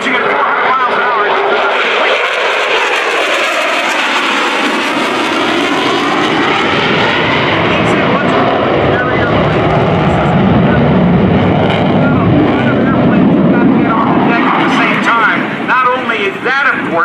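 An F/A-18F Super Hornet jet roars past at the 2018 NAS Oceana airshow, a loud, continuous sweeping engine rush with a public-address announcer talking over it throughout.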